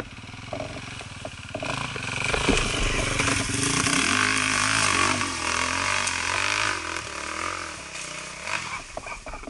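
An enduro motorcycle engine revving hard with the throttle held open, a loud, close, sustained snarl that rises and wavers in pitch, with gritty mechanical rattle throughout and no speech.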